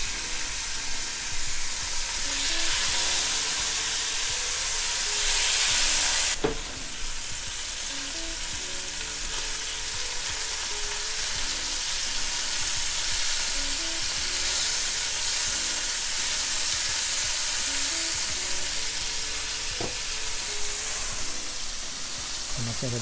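Oil sizzling in a pan for a mixed grill of chicken tikka and fish, a loud, close, continuous hiss and crackle throughout with a sharp surge around six seconds.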